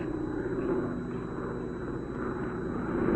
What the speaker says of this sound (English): Helen, it's just an airplane.